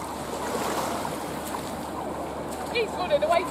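Sea water washes onto a Tenerife shore in a continuous broad wash with wind, and people talk faintly near the end.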